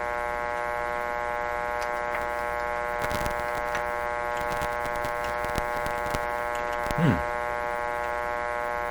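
Steady electrical hum and buzz from a 1925 Magnavox Type D TRF tube radio with a tube out, with faint crackles and a brief low thump, no station coming through.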